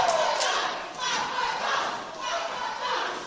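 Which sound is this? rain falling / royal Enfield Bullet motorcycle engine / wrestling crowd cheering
wrestling crowd cheering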